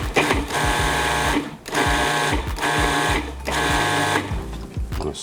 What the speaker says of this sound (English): Mix my cilantro in there.